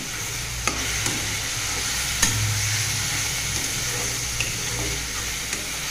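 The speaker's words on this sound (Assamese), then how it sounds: "পিঁয়াজখিনি এতিয়া অকণমান ৰঙচুৱা হোৱালৈকে ভাজিম" Onions fry in a pan for an egg curry, a steady close sizzle with light scraping and stirring clicks at irregular intervals, no talking.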